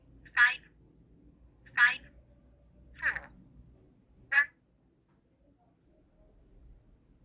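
A smartwatch places a phone call, giving four short, evenly spaced electronic tone bursts about a second and a half apart, clear and fairly close, before falling quiet.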